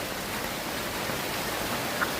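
Heavy rain pouring down outdoors where ducks are kept, a dense, even hiss of water that stays steady and fairly close throughout, with no voices and no audible duck calls.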